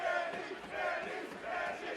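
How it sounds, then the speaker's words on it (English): A crowd at a PBA League 2023 bowling quarterfinal cheering and roaring steadily at a distance, a continuous wash of voices for two seconds. "Crowd is incredible as always."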